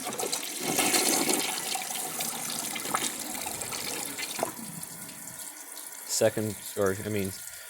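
A toilet flushes in a bathroom comparison of a 1974 AS Cadet and a Kohler Wellworth Ingenium under weak water pressure, with steady rushing water that fades to trickling, then a few brief squeaky tones near the end.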